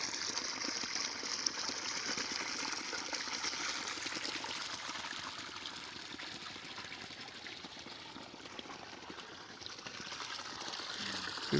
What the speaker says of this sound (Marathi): बोरला पाणी चांगलं लागलं म्हणा.